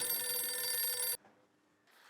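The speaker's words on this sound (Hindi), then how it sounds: "नलिनी पुत्र, मैं कब से तुझे फोन पे फोन किए जा रहा हूँ" A telephone rings loudly with a bright electronic trill for about a second, then cuts off abruptly, leaving faint room noise and a soft rustle.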